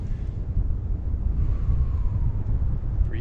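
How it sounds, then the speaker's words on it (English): Gusty wind buffets across a rocky ridge on the Appalachian Trail near Clark's Valley in Pennsylvania, a steady low rumble of wind against the microphone throughout. "Breezy."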